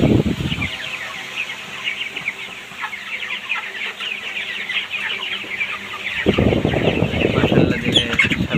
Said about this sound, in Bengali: দেখুন সব মুরগিগুলো কেমন